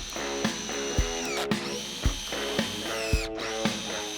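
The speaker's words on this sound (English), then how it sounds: "So we're going to go ahead and get this side lined up and send a couple screws." A power drill drives screws into the wooden frame of a giant slingshot built from 5-foot pieces, with a steady whining motor and regular clicking clutch ratchets about twice a second, close and loud with no talk.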